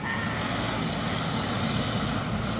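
A Fuso Super Great trailer truck passing on the road, a steady, even engine roar with a broad rumble that holds without a break, no voices.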